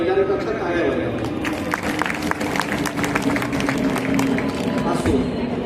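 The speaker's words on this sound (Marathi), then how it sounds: "त्यामुळे निश्चितच एकदा महिलांकरता टाळ्या वाजवा" A devotional kirtan gathering at a Sant Bhagwanbaba death-anniversary week gives applause for the women volunteers: a steady crowd clapping that runs throughout, with a voice speaking over it.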